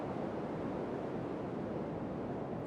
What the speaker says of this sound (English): It's got great views, but it's really windy.